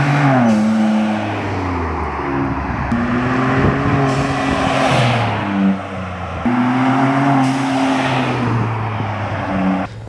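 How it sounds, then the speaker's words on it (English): A 2021+ Ford Bronco turbo engine with a Turbosmart blow-off valve, revving loudly and close in repeated rises and falls, with a brief whoosh as the throttle closes between revs. "Let's see if we can get it to make that blow-off sound."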